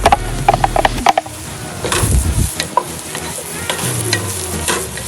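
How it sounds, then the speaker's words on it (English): Cubed shiitake mushrooms hit a hot pan outdoors and are stirred with a utensil. A few sharp clicks and knocks come first, then a loud scraping stir over a steady, close sizzle. "Now we're gonna add the mushrooms."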